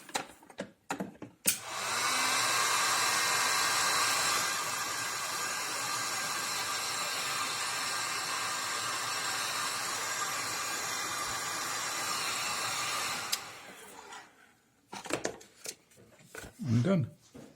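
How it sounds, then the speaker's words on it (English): Heat gun blowing hot air while rewiring the engine of a 1995 Mercedes SL600, a loud steady hissing roar that runs unbroken for about eleven seconds, then cuts off, leaving faint handling noises. "Heat gun."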